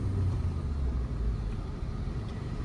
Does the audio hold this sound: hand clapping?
no